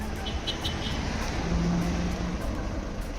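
Road traffic jam near Udhampur, a steady dense rumble of car engines and passing vehicles, with faint horn-like tones and a low idling drone throughout.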